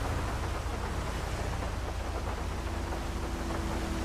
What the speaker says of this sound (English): It's just started raining quite heavily in the city centre there